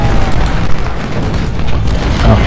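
Heavy booming cannon fire from artillery in a Gettysburg battle in the strategy game Ultimate General: Civil War, a dense, continuous roll of low blasts with no gaps and no voices.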